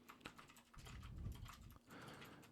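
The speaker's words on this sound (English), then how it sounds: "just click on it and see how much audio will pick up from the keyboard" Computer keyboard keys clicked at a desk and picked up by a Fifine T669 microphone, a quiet, uneven patter of individual keystrokes with brief pauses.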